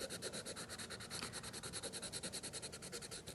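Rapid, steady back-and-forth scratching of a yellow colored pencil blending over orange on paper, close and quiet, in a quick even rhythm.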